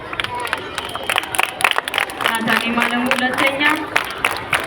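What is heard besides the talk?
children and audience clapping for a pupil's result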